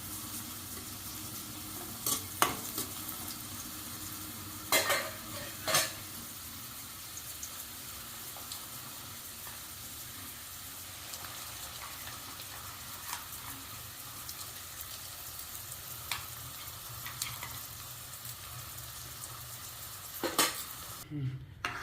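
Steady frying sizzle of garlic sautéing in oil in a pan, with occasional scrapes and clinks of a spoon stirring against the metal.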